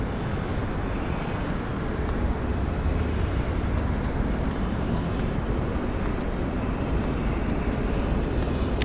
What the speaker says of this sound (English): One on the 737-800, one 900, the 737 MAX 8, which is this one right here.